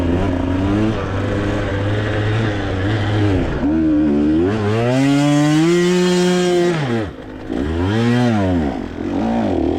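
A two-stroke dirt bike engine ridden on an off-road ranch track in Texas, revving loud and close in rising and falling surges, with a brief drop when the throttle closes before climbing again.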